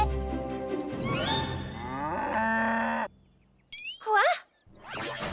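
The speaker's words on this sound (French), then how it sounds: "Salut les vaches à lait." Dairy cows mooing in a farm scene, a long, loud, drawn-out low moo with rich harmonics lasting about three seconds, followed by brief squeaky, bright tones and rustling.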